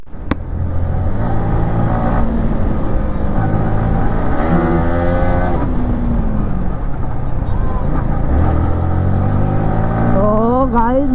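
A Kawasaki Z900 motorcycle engine revs hard on a night ride through traffic, loud and close, with repeated rising and falling pitch sweeps as it accelerates and shifts.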